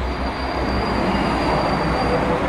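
A non-stopping train rumbles loudly through Pregnana Milanese station at close range, a heavy continuous roar with a thin high metallic whine of wheels running over it.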